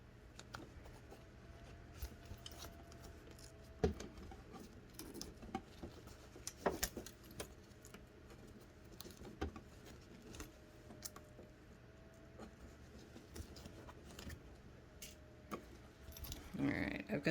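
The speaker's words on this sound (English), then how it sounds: "I'm going to reinsert some pins on this side so they're easier to remove" Faint, scattered clicks and soft metallic ticks as pins are pushed back through fabric and zipper tape beside a trouser fly zipper, quiet and irregular over low room hum.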